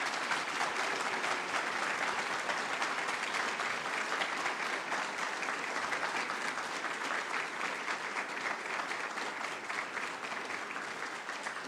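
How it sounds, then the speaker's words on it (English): An audience at a university lecture by the President of the U.N. General Assembly gives the guest steady, sustained applause, a dense wash of many hands clapping that stays loud and even throughout, with no voices above it. "So please, a nice round of applause for our dear guest."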